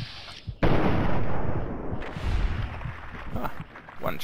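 A single loud gunshot in the video game Fallout 3, a sharp blast followed by a long rumbling echo and a second swell of reverberant noise that tails off.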